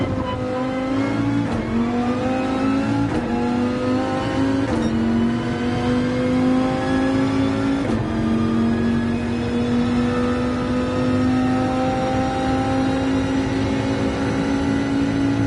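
A race car in Gran Turismo 7 accelerates hard, its loud engine whine climbing through several gear shifts before holding a steady high-revving drone.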